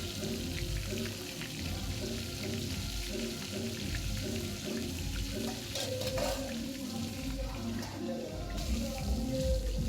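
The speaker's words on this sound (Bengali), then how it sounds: "এইভাবে একে একে সব মাছগুলো আমরা ভেজে নেব।" Large pangas fish pieces fry in a pan with a moderate, continuous sizzle, mixed with clinks and splashy kitchen handling and faint background noise. No talk is heard.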